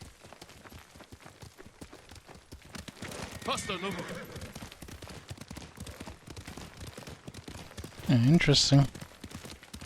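Horse hooves clip-clopping at a gallop in the video game Ghost of Tsushima, a steady rhythmic beat running under spoken dialogue, with a louder burst of sound near the end.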